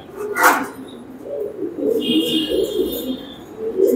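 Show King pigeons in a loft give soft, low rolling coos close by, repeating through the few seconds, with a brief voice and a short higher chirp rising over them.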